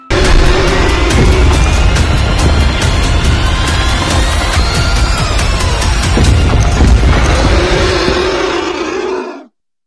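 Roaring, crashing monster voice of Nibbler from the game Garten of Banban 4, loud and continuous for about nine seconds with growls and booming hits before cutting off abruptly.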